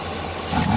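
A supercharged Opel Blazer engine runs close by, a low idle that swells into a rising rev within a second.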